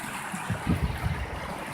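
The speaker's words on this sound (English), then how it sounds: "There's a good view of the spillway actually." Water pouring over a river spillway, a continuous close rushing wash with low rumbling surges in the middle, no talking.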